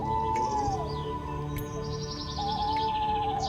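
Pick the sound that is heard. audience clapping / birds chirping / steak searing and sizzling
birds chirping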